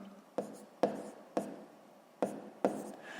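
Marker or chalk strokes on a board while math is written out for a sixth-grade fraction exercise: five distinct, close, tapping scratches spaced roughly half a second apart, with quiet pauses between them.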